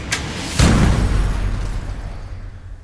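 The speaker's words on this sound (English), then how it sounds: "I've added in some gunshot handling sounds and some gunfire." A single sharp gunshot boom rings out, preceded by a brief metallic handling click, then a long decaying rumble and tail, used as a sound effect layered into a heavy metal production.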